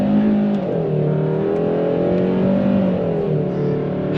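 A 2023 Hyundai Sonata N-Line sedan accelerates hard in sport mode at about half throttle, its engine note droning loud and close with rising, shifting harmonic tones and no talk over it.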